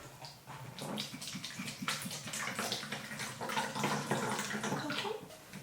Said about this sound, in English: Pour half cup of vinegar